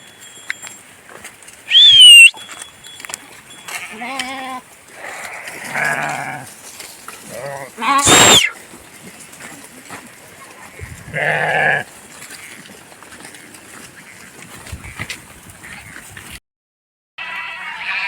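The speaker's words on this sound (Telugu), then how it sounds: "ఇక గొర్రెలు కలిసిపోతాయి." A flock of sheep grazes on a dried-up paddy field, loud bleats ringing out one at a time at irregular intervals, some close by and others farther off, over a quiet outdoor background.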